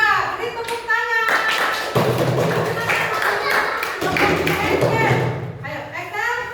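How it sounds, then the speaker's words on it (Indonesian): A classroom of children claps their hands together in a loud, dense burst lasting several seconds, with a teacher's voice briefly audible at the start and end. "Beri tepuk tangan."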